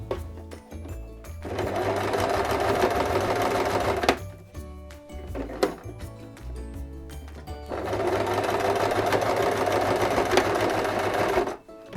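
Sewing machine stitching a zipper crossbody bag: two long, steady runs of stitching, close and fairly loud, broken by a short pause of stops and handling noises, with no talking.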